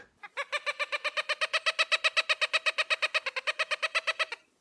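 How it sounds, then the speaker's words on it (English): A Cooper's hawk, a medium-sized hawk with a gray-blue back and long tail, gives a loud, rapid run of about thirty harsh, evenly spaced cackling notes, heard alone and close. "The bird of the week this week is the Cooper's hawk."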